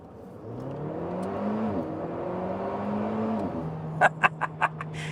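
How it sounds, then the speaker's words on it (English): An Alpine A110 sports car accelerating hard, its engine note climbing through rising gear pulls with a brief dip at a shift, then settling as a series of sharp exhaust pops crackle near the end. "there's a lovely whoosh off that turbo. You can hear the exhaust popping away."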